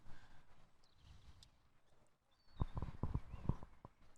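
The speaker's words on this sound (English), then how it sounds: "So Juan Martin riding a horse called Continent." Horses gallop on turf during a polo match, sending a fast run of heavy hoofbeat thuds in the second half after quieter, distant field noise.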